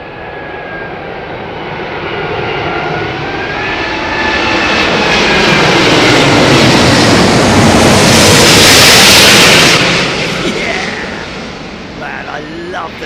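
Jet aircraft engines roar as planes come in head-on to land at Heathrow Airport, a broad rushing drone that swells loud and close around the middle, then fades away under gusty wind.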